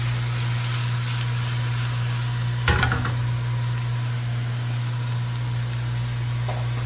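Onions fry in a pan for homemade BBQ sauce, a steady close sizzle over a low electrical hum, broken once by a brief clatter of a utensil.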